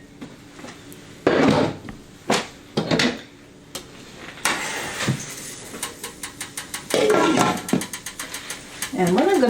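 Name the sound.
pot lid put on pot on the stove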